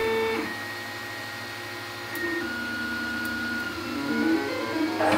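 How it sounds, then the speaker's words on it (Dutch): A 3D printer running nonstop, a steady mechanical whir with shifting stepper-motor tones that rise and fall as it moves, close and alone without talk. "Zijn printer draait 24 uur per dag en 7 dagen in de week."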